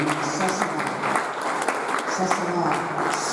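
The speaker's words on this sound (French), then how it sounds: "ça sera sous cet applaudissement" Applause from an audience at an official launch event fills the space, a steady dense patter of many hands clapping at moderate loudness, continuous without pause.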